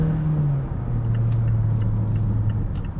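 A 2022 Mazda CX-9 Signature pulls away hard from a standstill, a steady low engine drone that dips slightly in pitch as it builds speed, with faint front-tire chirps of wheel spin, heard loud and close from inside the cabin.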